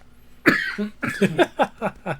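A person coughs in a rapid series of harsh bursts close by, one long hack followed by several shorter ones.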